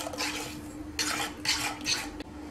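Homemade ketchup ingredients with a couple of cloves being stirred in a pot, a utensil scraping and clinking against the sides in several short bursts, close and fairly quiet.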